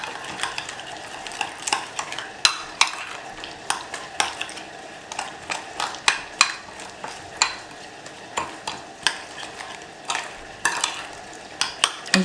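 Onion relish stirred in a hot pan: a faint sizzle broken by repeated rhythmic scrapes and clicks of a utensil against the pan.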